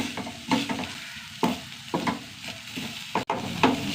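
Egg and carrot thoran is stirred and fried in a pan, with a soft sizzle under repeated scraping strokes of a spoon at an irregular rhythm, close by and with no talking.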